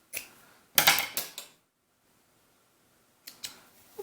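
Scissors cutting fabric while sewing a doll's sunsuit, a quick cluster of sharp close snips followed by silence, then two more brief snips.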